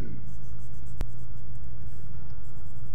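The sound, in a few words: drawing and coloring a dragon egg on paper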